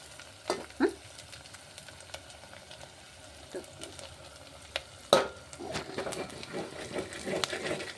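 Black masala, coriander powder, cumin powder and salt sizzling in hot oil tempering for mutton curry, a faint steady fry with scattered stirring scrapes and a sharper clatter midway.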